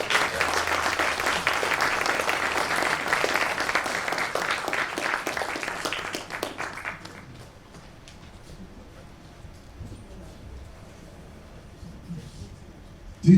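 Audience applause at a college jazz band spring concert, a dense, loud wash of clapping for about seven seconds that then drops to faint scattered claps and room noise.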